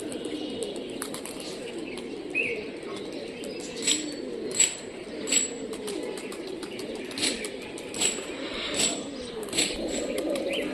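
Soft repeated cooing from pigeons, including red pigeons, with faint chirps and occasional wing flutters over a steady low background.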